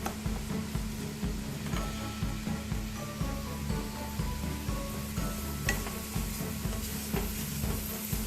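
Masala spices sizzling and frying in a kadai for kadai paneer, with a steady scrape of stirring pulsing through the sizzle, close and moderately loud, no voices.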